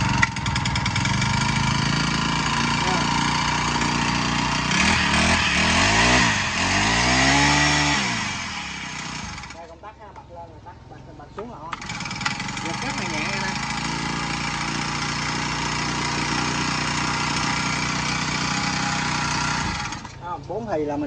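Honda T53 grass trimmer engine running, a buzzing two-stroke drone that rises and dips with throttle, cuts out briefly, then restarts and runs steadily again, with someone talking over it.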